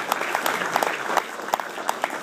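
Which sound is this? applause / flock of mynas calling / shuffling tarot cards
applause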